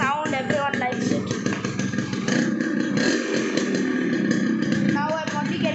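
A Yamaha RX 100 two-stroke motorcycle idling with its silencer fitted while warming up, a steady close, busy engine note with light clatter throughout, overlapped by someone talking.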